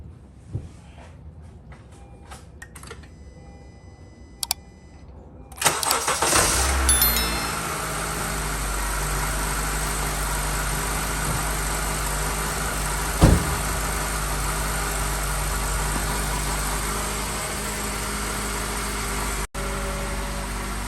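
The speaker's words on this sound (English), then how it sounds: "So now I am going to turn on the car and see if it works fine or not." A car engine starts right after a battery change, cranking briefly before catching, then settles into a steady, fairly loud idle that continues with a low rumble.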